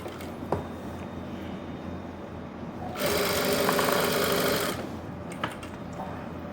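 A sewing machine runs a single steady stretch of stitching along a folded fabric hem for a palazzo, loud and close against a low hum of room noise.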